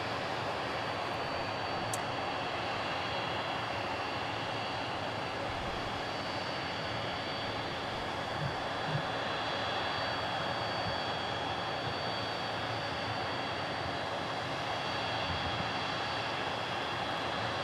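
Jet engines of an Aer Lingus airliner at DFW airport make a steady, broad roar that holds evenly for the whole stretch, fairly distant, with no one talking.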